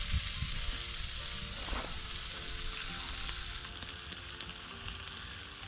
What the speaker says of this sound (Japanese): 続いて焼くのは3割引きの静岡県産の牛肉。